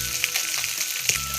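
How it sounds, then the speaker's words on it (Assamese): Fish frying in hot oil crackles and sizzles continuously up close, with sharp pops breaking through now and then and no talking. "ভালদৰে ফ্ৰাই হৈ থাকক"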